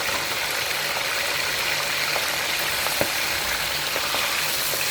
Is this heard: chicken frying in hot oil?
yes